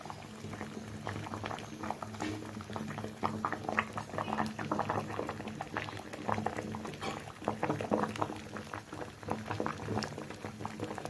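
Egg vapa wrapped in banana leaf boiling in a pot, with a continuous close bubbling, popping and gurgling and faint voices in the background.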